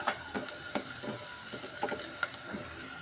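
Onions frying in a pan as turmeric is added and stirred in, a soft sizzle with several scraping stirring strokes up close.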